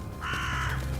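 A crow gives one drawn-out, harsh caw lasting about half a second, fairly close and clear above a low steady outdoor background, with no talking.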